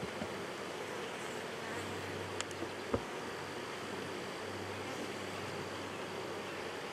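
Honey bees swarm and buzz around a hive during comb-building work, a dense, steady drone that holds throughout, with a couple of faint knocks partway through.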